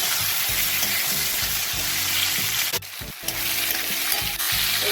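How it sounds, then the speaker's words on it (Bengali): Raw jackfruit pieces frying in hot oil, a loud, steady sizzle with a low rhythmic rumble beneath and a brief dip near the middle, and no talk. "ওই তেলে এবার এঁচোড়টা ভেজে দিচ্ছি, সব এঁচোড়টাই দিয়ে দিচ্ছি।"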